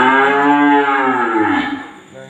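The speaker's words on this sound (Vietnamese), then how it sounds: "Mấy bò này rất là đẹp nha cô bé anh chị." A young 3B beef bull on a cattle farm in Củ Chi, Vietnam lets out one long, loud, close moo with a steady throaty drone that sags in pitch and fades near the end, with no talk over it.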